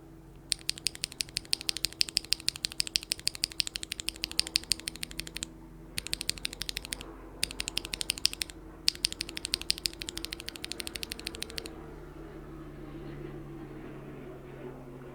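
Everglide Crystal Purple tactile switch topped with a PBT double-shot keycap, pressed in quick bursts of sharp clicky-clacky strokes with brief pauses between runs, close and clear, then stopping.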